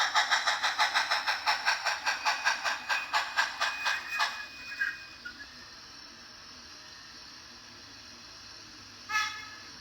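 An On30 model steam locomotive on a mining layout chuffs rhythmically, about twenty evenly spaced puffs that slow and fade as it rolls onto a trestle and stops, followed by quiet and one short whistle-like burst near the end.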